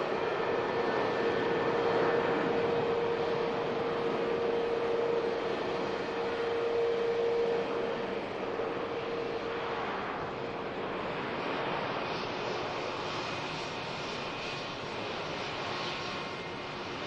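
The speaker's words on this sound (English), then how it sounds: "As the Pegasus taxis by." A Pegasus airliner taxiing at Manchester Airport gives a steady jet engine whine and broad roar that hold for the whole stretch, fairly near and slowly fading, with light wind noise on the microphone.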